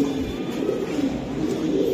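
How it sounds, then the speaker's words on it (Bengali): A male racing pigeon coos up close in a low, soft, throaty rolling tone that pulses steadily through the whole moment, with faint rustling behind it. "এই যে দেখেন কবুতরটা আমি দেখাই, খুবই সুন্দর"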